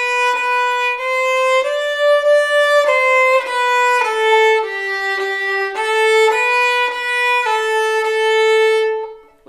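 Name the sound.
violin playing Ode to Joy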